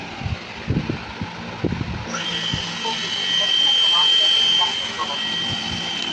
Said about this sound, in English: Turn on engine.